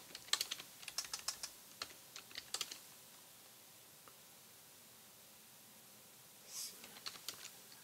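Quick bursts of typing on a computer keyboard, a cluster of light clicks at the start and a few more near the end, with a quiet pause between, close and fairly soft.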